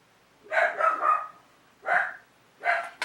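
A dog at home barks at the meter reader who has come to read the electricity meter: three separate sharp barks at moderate distance, fairly soft, with quiet gaps between them.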